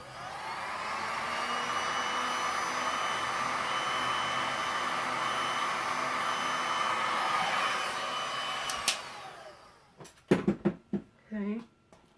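A heat gun blows steadily over resin on a geode-style painting, a loud continuous airy whoosh for about nine seconds before cutting off, followed by a few short knocks and a voice speaking briefly near the end.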